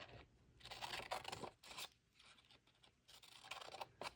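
Paper being snipped with scissors for a handmade pocket folio, a few quiet close cuts with faint crisp rasps and short pauses between strokes.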